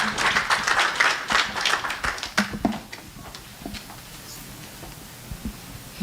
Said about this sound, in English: as our panelists get off the stage, guys, give them a round of applause